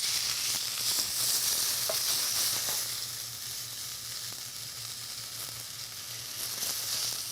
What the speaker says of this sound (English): we're going to toss in a few green onions. Just let that cook a little bit.